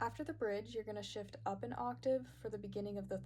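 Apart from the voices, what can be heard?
No distinct noise like a dog, phone or traffic.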